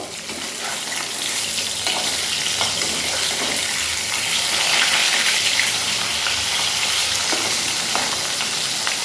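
Fish pieces fry in hot oil in a pan, a loud, continuous close-up sizzle that swells slightly in the middle with faint stirring clicks.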